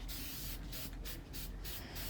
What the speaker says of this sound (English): even coats of my spray enamel in white